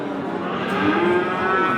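A cow at a livestock market in Qibray, Tashkent region, lets out one long, deep, drawn-out moo that fills the whole moment, loud and close.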